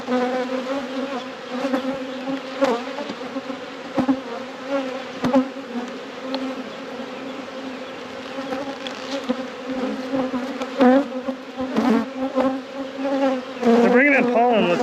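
Honey bees swarm around an opened deep hive during a post-winter inspection, a dense, steady buzzing hum that swells near the end, close and loud, with no talk over it.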